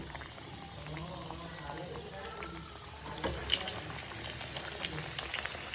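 Chicken drumsticks fry in hot oil in a pan, a faint, continuous bubbling sizzle with light watery crackles throughout, heard at a distance with no talk.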